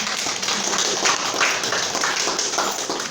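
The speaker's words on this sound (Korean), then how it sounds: "박수로 축하합니다." A church congregation applauds during a Sunday service to celebrate members' birthdays; dense, steady clapping fills the room at an even level for the whole stretch.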